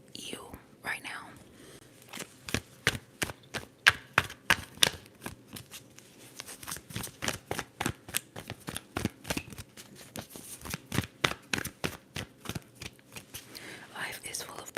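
Tarot cards are shuffled close up in a rapid, steady run of crisp riffling slaps and flicks that continues throughout, under soft whispered talk.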